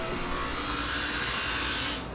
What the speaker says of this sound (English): Grinding that little bit off.